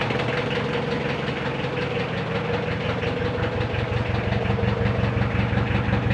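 A Mitsubishi 4D56 diesel engine idles steadily after a hard start, with a loud, close, continuous knocking rumble that holds an even rhythm throughout and has no talk over it.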